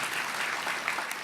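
Audience applauding at a Comic-Con panel for The 100 in 2013, a steady wash of clapping from a crowded room that stays even for its short length, with no voices over it.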